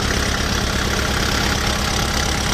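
Close up, the diesel engine of a used 2009 Kubota L4508 tractor idles in a loud, steady, rapid knocking chug with an even rhythm and no voices.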